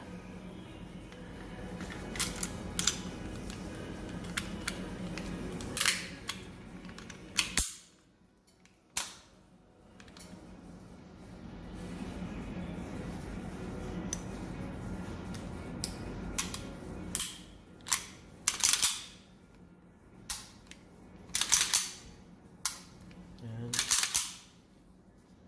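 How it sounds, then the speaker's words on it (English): Metal parts of a MAC 9DS pistol clack and slide together as the slide is reinstalled, a string of sharp close clicks and snaps that grows busier toward the end, over quiet room noise. "We are now going to reinstall the slide."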